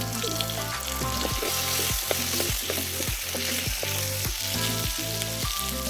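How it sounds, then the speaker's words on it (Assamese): Potatoes frying in oil in a pan for an egg curry, giving a steady, close sizzle throughout with no talking. "আলুখিনি অকণমান ফ্ৰাই কৰিব লাগিব,"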